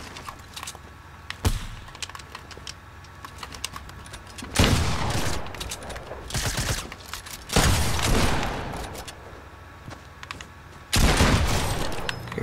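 Video game gunfight with loud bursts of rapid gunfire in several separate volleys, interspersed with quieter single shots and clicking, no talk over it.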